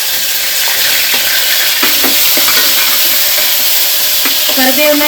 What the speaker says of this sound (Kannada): ನಾನಿಲ್ಲಿ ಈರುಳ್ಳಿ ಮತ್ತು ಒಂದೆಷ್ಟು ಕರಿಬೇವು ಕೂಡ ಹಾಕ್ಕೊಳ್ತೀನಿ